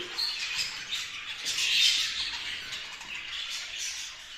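Budgerigars in a breeding room fill the air with dense, continuous chattering and scratchy squawks, a steady flock chorus that swells slightly midway, with no voices.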